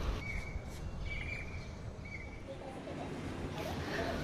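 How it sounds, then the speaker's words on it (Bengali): Birds calling outside a guest house in Meerut in June, faint repeated chirps over a quiet outdoor hum, somewhat distant and spaced apart. "এখানে তোমরা দেখো কি সুন্দর পাখির ডাক শোনা যাচ্ছে"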